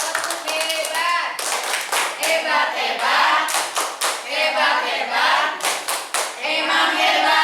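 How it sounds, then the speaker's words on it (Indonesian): Participants at an Indonesian teacher training session perform a rhythmic group clapping chant, sharp close claps in patterned bursts mixed with voices calling along throughout. "Tepuk hebat."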